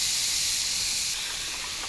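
A hot frying pan sizzles on a stove inside a tent during a winter fishing trip. The hiss is loud, steady and close, and it eases slightly partway through, with no talking.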